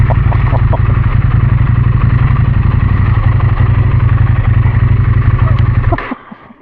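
A motorcycle engine runs steadily and loudly up close with a throbbing low rumble and mechanical clatter, then cuts away abruptly near the end.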